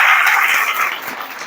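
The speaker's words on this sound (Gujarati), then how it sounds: "તાળી પાડો બધા છોકરા માટે" Children in a classroom clap together for a classmate, a short burst of applause that starts strongly and then thins out and fades.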